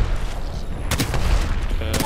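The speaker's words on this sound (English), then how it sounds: "What a nade." A grenade blast in Apex Legends rings out amid sustained gunfire, with a few loud broadband bursts and continuous crackling shots in a busy, close battle mix.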